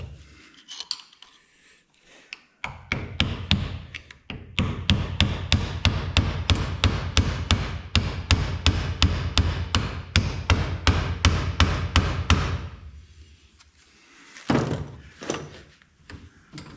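Repeated metal hammer blows drive a bushing out of a water pump on a vintage Minneapolis-Moline UTU tractor, a steady run of about thirty sharp strikes at a brisk even pace, with a few scattered knocks before and after.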